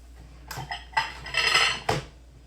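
A mixing bowl is fetched and handled among kitchen dishes, with a few distinct ceramic and metal clinks and clatters close by across a couple of seconds, and no talking.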